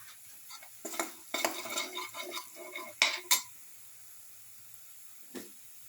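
Spices and fennel seeds being stirred in a pan, a spoon scraping and clinking against metal in short bursts over a faint sizzle, then a lone tap after a pause.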